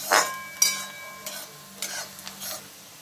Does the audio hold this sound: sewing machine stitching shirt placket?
no